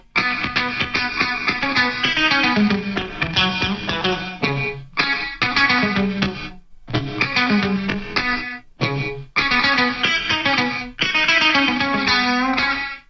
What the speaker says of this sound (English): you need to hear the gated reverb first up